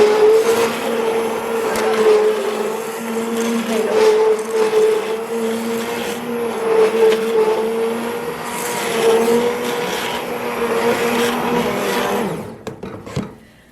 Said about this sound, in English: So the next step then is to use my immersion blender.